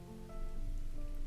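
Gentle rain falling on dry, cracked soil, a soft, steady patter that swells slightly after the opening moments and continues quietly and evenly, with no voices.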